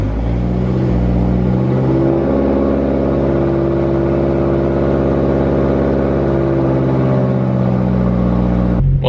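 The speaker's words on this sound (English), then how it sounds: "This is the first cold start with the bolt in" Turbocharged car engine idling loud and close right after a cold start on a cold day, a steady droning rumble with subtle pitch wavering that cuts off abruptly at the end.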